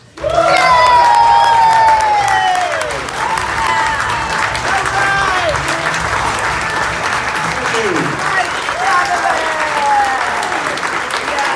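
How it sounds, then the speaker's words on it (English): Loud, sustained audience applause with scattered cheers and whoops fills a comedy awards hall, steady and dense throughout, with a brief voice rising above the clapping. "Big round of applause."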